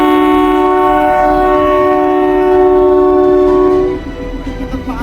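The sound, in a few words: toy train horn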